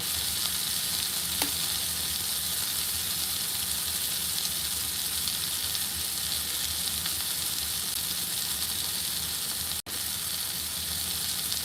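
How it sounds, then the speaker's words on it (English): Sirloin steak seasoned with salt and pepper sizzling loudly in a pan, a dense, continuous hiss close up that holds steady throughout with only a momentary dip near the end. "that's how I cook my steak"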